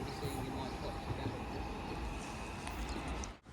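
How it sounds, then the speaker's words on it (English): A train pulls into a platform at Stafford station, its steady rumbling rail noise filling the clip at moderate level, with faint station ambience and no clear speech. "the train now arriving into platform 4 is the 1410 London North Western Railway service to Birmingham New Street"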